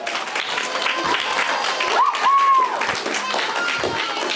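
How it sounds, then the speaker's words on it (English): An audience claps in a church during a worship service, producing steady, dense applause across the whole stretch with a brief tonal squeal near the middle. "Let's clap for them."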